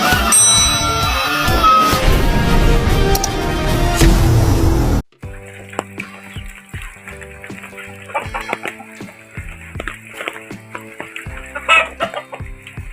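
Chickens cluck in a backyard coop flooded by rain, after a stretch of loud music. Their close, scattered clucks and calls carry on through the rest of the clip.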